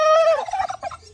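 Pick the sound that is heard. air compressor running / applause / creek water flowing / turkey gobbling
turkey gobbling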